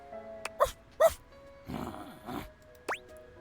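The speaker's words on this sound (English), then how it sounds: "Bark again to confirm." A dog barks in a house, a few separate short barks and yips at close range, with quiet gaps and a brief whine between them.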